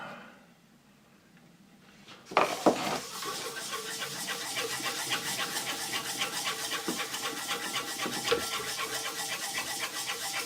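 After a quiet moment, close-up rasping strokes of wet sanding on a Hultafors chopping axe blade start and repeat in a fast, steady back-and-forth rhythm on metal, continuing without speech.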